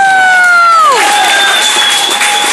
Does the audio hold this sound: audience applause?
yes